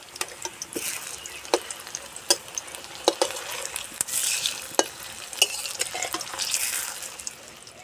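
Flattened rice fritters, shaped into flat rounds, fry in oil over a low flame, giving a steady close sizzle broken by scattered sharp clicks and pops, with no talk.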